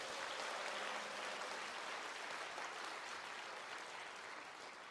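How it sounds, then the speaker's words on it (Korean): Sustained applause from a large crowd at a patriotic prayer rally in a hotel grand ballroom, dense and steady for about five seconds and easing slightly toward the end, with no voices over it. "박수 크게 한번 부탁드립니다."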